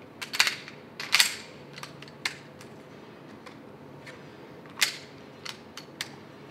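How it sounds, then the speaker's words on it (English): A handgun is loaded at the start line of a performance shooting stage, giving a handful of sharp, close metallic clicks and snaps spaced irregularly over a quiet background. "I'm going to start by loading my gun."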